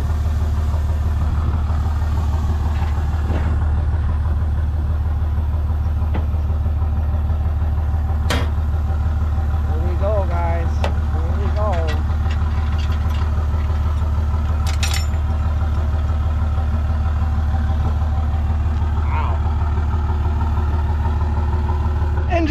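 Engine being cranked and then settling into a steady idle, a loud continuous low rumble close by with occasional faint clicks and knocks over it, no talking.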